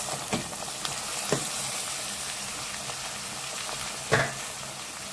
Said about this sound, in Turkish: Güzelce de fasulyemi de kavuracağım.